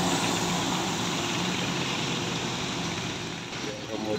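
A Mercedes-Benz bus rumbles past on a road in light drizzle, a broad continuous engine roar close by that holds steady and then eases slightly, with a voice talking over it.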